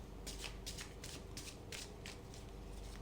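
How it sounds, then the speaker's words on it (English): A deck of tarot cards being shuffled by hand, a quick series of about eight crisp riffling bursts, close and fairly quiet over a low steady hum. "The cards have been pre-shuffled, but just to get some energy flowing, I'm going to shuffle them on camera."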